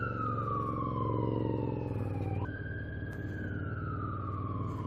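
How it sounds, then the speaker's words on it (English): An ambulance siren wails in a slow falling then rising tone in London traffic, heard from a motorcycle over a steady engine drone and road rumble. "I'm not in a mood to let ambulances past."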